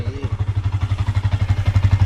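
Motorcycle engine idling up close with a freshly fitted stainless exhaust, a loud, even, rapid thumping pulse that holds steady throughout with slight swells in strength.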